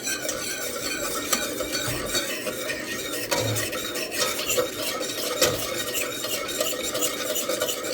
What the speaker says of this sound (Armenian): ավելացնում ենք 2 ճաշի գդալ եգիպտացորենի օսլա ու արագ խառնում ենք